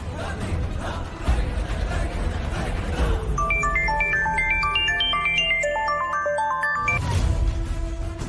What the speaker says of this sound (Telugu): ఏంటి మనోహరి, నన్ను ఫోన్ చేయొద్దని చెప్పి నువ్వే ఫోన్ చేస్తున్నావు?